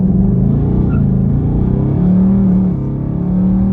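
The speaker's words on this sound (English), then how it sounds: "There's a little pull for you. That's about maybe a quarter throttle." A Ford Mustang build accelerates at about quarter throttle. The engine note rises into a deep rumble with a brief swell in pitch, heard up close with no talk.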